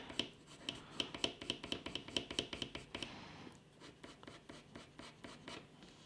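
Walnut brown colored pencil shading on paper, a steady run of quick rhythmic scratchy strokes, close and fairly loud at first, then softer and more rubbing toward the end, with no talk.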